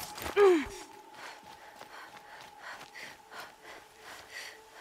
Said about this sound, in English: Panting away to herself.